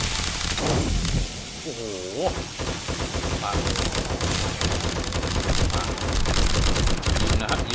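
Rapid automatic gunfire in the survival video game 7 Days To Die, dense continuous bursts filling the whole stretch at close range, with a man's brief exclamation and talk over it.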